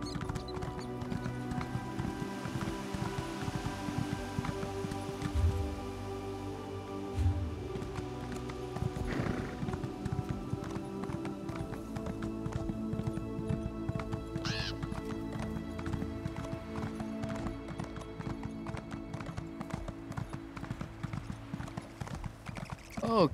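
Horse hooves clip-clopping in The Elder Scrolls Online, a steady, even trot of game hoofbeats over a constant musical and ambient game soundtrack, with a couple of deeper thuds partway through.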